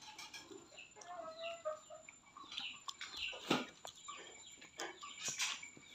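Chickens cluck and squawk in short irregular bursts, fairly quiet against a soft outdoor background.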